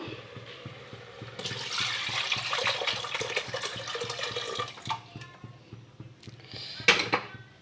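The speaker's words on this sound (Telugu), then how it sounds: "ఇప్పుడు పిసికి పెట్టుకున్న చింతపండు పులుసుని కూడా వేసుకుందాం" Tamarind juice is poured into a pot of moringa leaf dal, a close splashing pour that swells for a few seconds and then trails off into light drips and small clinks.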